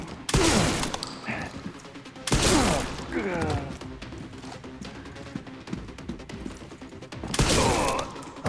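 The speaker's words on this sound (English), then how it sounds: "I'm just shotgunning the shit out of them" Shotgun blasts fired at enemies in the video game Resident Evil Requiem: three loud, booming broadband shots spaced a couple of seconds apart, with a voice talking in between and quieter game sounds underneath.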